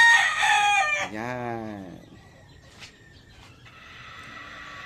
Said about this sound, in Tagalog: Ito po isang brood stag, straight breed na Boston Millionaire.